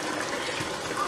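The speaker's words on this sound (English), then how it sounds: "So I'm going to drain off the all water" Water drains off from a pot of potatoes and chicken in a home kitchen during biryani cooking, a continuous splashing, trickling pour at close range with no pauses.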